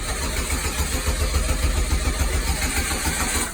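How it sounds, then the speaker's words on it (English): A car engine cranks and catches, running roughly at close range as it struggles to hold an idle, a loud continuous rumbling churn with no talk over it. "Car starts but won't idle."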